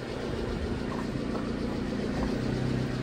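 A Subaru Sambar engine idles at normal operating temperature around 1,000 rpm, a steady close mechanical hum with faint ticking and vibration and no talking.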